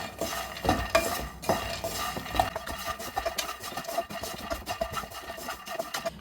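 Raw peanuts roast in a pan for ragi laddu while a utensil stirs them, making repeated close scraping and rattling strokes over a low sizzle. No one speaks.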